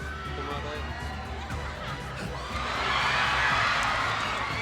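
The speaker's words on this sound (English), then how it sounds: "The crowd loves it." Crowd at an esports match for Mobile Legends M5 knockouts swells into loud cheering and shouting, building in the second half, with a commentator talking over it.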